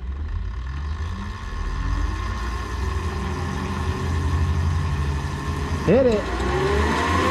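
A Denzel Samurai electric motorcycle runs on a dyno with a steady whining drone and roller hum, and its pitch sweeps upward near the end. A voice speaks briefly over it.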